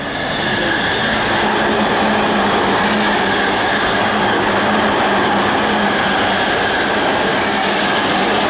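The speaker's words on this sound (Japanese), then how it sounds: "下鉄東西線直通各駅停車西船橋行きが参ります" A JR Chuo Line rapid train, an E233 series bound for Takao, rumbles steadily close by at Nishi-Ogikubo station, with wheel noise and faint high squealing over a constant heavy roar.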